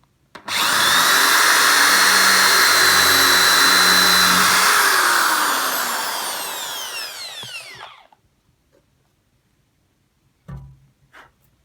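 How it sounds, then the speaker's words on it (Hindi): Working an 8 mm bit, a Hyundai electric drill spins at full speed with a loud, steady whine that slowly fades and stops. A brief thump follows after silence. "इस किस्म की ड्रिल जो है 8 मिलीमीटर की इसने बड़ी आसानी से कर दी"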